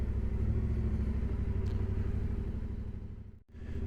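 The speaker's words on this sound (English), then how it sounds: "Riding out of our little campsite." A motorcycle rides out of a small campsite, its engine a steady low rumble throughout that drops away briefly near the end.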